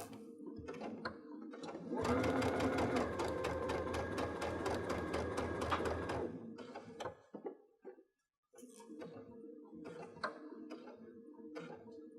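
A home sewing machine stitching a dress yoke runs in a loud, fast, even rattling burst for several seconds, then slows into scattered clicks and short stops before quieter mechanical handling sounds.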